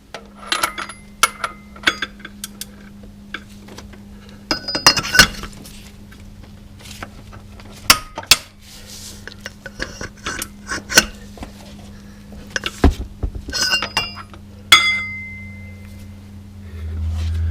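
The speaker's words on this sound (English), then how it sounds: "So I've got my torque wrench. We're going to wind this thing up to 235 foot-pounds." A torque wrench tightens the pulley bolt on a Camaro ZL1 during a Dayco lower pulley install, making scattered metallic clicks and ratcheting clanks with irregular pauses, close by in a quiet garage.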